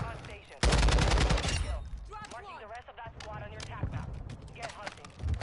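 Video game gunfire erupts in a sudden loud burst of rapid shots, then continues in scattered, fainter reports beneath excited voices talking.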